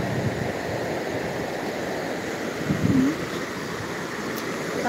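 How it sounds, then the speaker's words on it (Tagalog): Strong sea waves wash onto a crowded beach in a steady, rushing roar that holds throughout, with a slight swell near the middle and no talk over it. "Lakas ang alon, ano."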